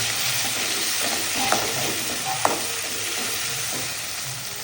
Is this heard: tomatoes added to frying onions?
yes